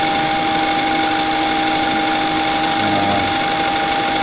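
Lathe taking a finish cut in deep taper boring, a steady loud machine drone with constant tonal hum and whine, unbroken throughout with no voices.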